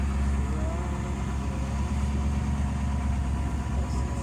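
A classic Daimler car idles at an outdoor car meet, a steady low engine rumble that stays constant throughout.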